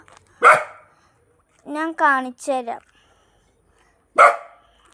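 Two sharp dog barks, one near the start and one near the end, with a person talking briefly in between.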